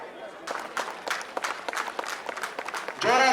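Loud, dense crowd applause at a sports flag-hoisting ceremony for employees in Raichur, many hands clapping steadily throughout, with a voice rising over the clapping near the end.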